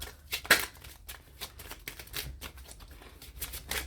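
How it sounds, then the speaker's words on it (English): Tarot cards being shuffled by hand: soft irregular riffling and flicking of cards, close and quiet, with brief sharper snaps and no talking. "I want to make sure that I'm shuffling well and I don't pick up the same cards"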